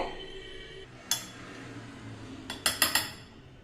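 A spoon mixes raw plantain salad in a bowl: a few sharp metallic clinks against the dish, one isolated, then a quick cluster of three or four near the end, over quiet background.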